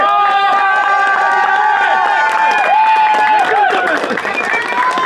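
Crowd applause and cheering at the finish of the Kodzha Kaya 42 km mountain race, steady and loud throughout, with a voice talking over it.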